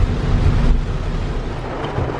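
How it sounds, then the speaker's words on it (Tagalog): Heavy rain roars with a deep rumble of thunder underneath, heard from inside a parked vehicle in the Philippines, a loud, dense wash of low noise throughout. "hindi tayo makababa dahil malakas ang ulan"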